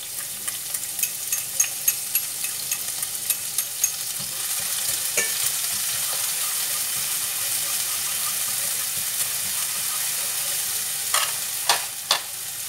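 Minced lemongrass and chili fry in a spoonful of oil for a vegetarian dish, a continuous close sizzle broken by sharp clicks of a utensil stirring against the pan, with no speech.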